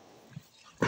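A dog gives a short, sharp bark at the end, preceded by a faint small yip, in a quiet home setting.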